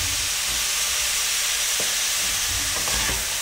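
Carrots and beetroot fry in a pan with a steady broadband sizzle, broken by a few brief stirring scrapes near the end; no voices.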